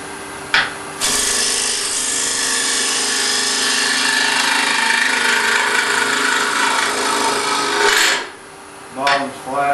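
A carbide rougher from Easy Wood Tools flattens the bottom of a wood blank spinning on a lathe, giving a loud, steady rasping scrape for about seven seconds, framed by brief lighter touches before and after.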